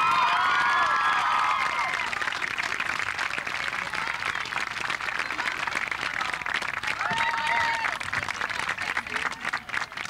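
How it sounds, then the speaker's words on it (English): Graduating class at a 2002 Chillicothe High School graduation ceremony in Chillicothe, Ohio, applauding their parents: dense, sustained crowd clapping with scattered cheers and shouts, fading slightly toward the end. "class of 2002, stand up and give your parents a round of applause."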